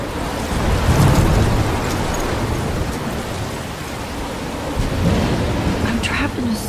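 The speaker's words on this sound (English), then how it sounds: "I'm trapped in a storm?" Thunderstorm in the video game Life Is Strange: heavy, loud rain roars continuously with low rumbling thunder swelling and fading beneath.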